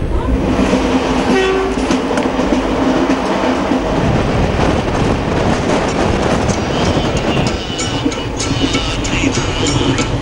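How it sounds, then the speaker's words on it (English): The Mumbai CST to Kanyakumari Express rolls through loudly with a rumbling engine, rhythmic wheel clatter and a sounding horn, heard up close and continuous throughout. "We board our last train for track and traction."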